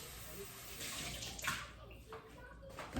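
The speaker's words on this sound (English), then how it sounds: "I need to rinse off my 1/2 cup." Tap water runs steadily while a measuring cup is rinsed in a kitchen sink, with a low continuous splash and a brief knock at the end.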